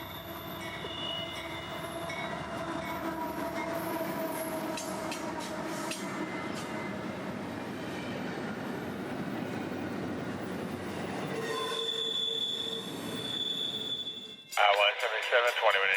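A freight train rumbles past steadily through a town with wheels squealing and clattering, then the noise drops away near the end into sharper, higher metallic sounds.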